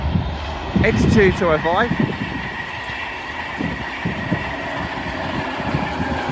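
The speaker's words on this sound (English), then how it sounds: "Passing through now will be a LNER Intercity 225 set working a service from York to London King's Cross." An LNER InterCity 225 set passes Colton Junction on the East Coast Main Line on a York to London King's Cross service, a loud steady rolling roar with wheel and engine tones and a brief voice over it.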